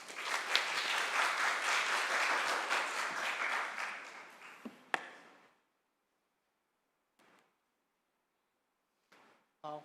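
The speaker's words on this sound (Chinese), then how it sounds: "我们掌声欢迎" A church congregation claps loudly for about four seconds to welcome the preacher, then the applause fades out, leaving near silence broken by a few faint bumps and brief soft sounds.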